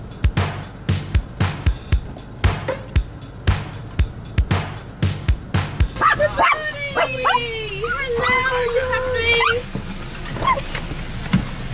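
A dog barks in a rapid, regular run of loud yaps, then switches to long, high whimpers and whines close by. Car or background noise sits underneath.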